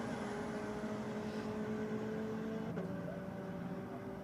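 A drag racing car engine drones steadily down the quarter mile at a moderate distance, with a brief sharp shift in pitch about two-thirds through, under a broad background roar.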